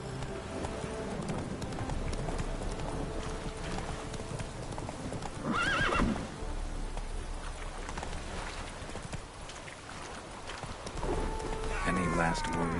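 Hooves of the horse Roach pounding in a fast galloping clip-clop in The Witcher 3, with a neigh partway through and rain-like ambience beneath, while a voice talks over the riding.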